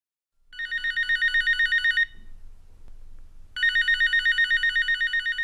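A telephone bell rings loudly in two long trilling bursts separated by a short silent gap, each burst a rapid, even electronic warble close to the listener.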